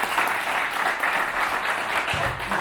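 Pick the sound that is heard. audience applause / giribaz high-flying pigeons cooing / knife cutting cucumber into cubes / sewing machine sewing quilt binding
audience applause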